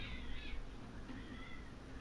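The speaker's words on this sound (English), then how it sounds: "Cats are fighting outside." Cats fighting outdoors, heard as a distant, continuous yowling caterwaul carried over a steady background noise, rising and falling through the whole stretch without any talking.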